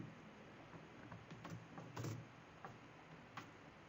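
Fingers tap on a computer keyboard, faint scattered keystrokes with a couple of louder clacks over a quiet room hiss.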